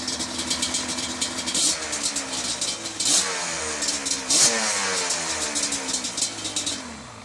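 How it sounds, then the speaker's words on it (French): A Yamaha Banshee 350 quad engine from 2015 being blipped repeatedly with the throttle, each rev rising and falling in pitch over a rough two-stroke idle, close and loud with no speech. "Mets un peu de gaz juste."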